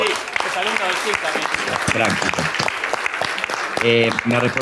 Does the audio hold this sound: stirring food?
no